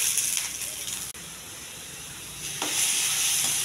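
Onions go into hot oil with curry leaves, cumin and mustard seeds and fry with a steady, bright sizzle. A short break comes about a second in, then a fresh surge of hiss after two and a half seconds.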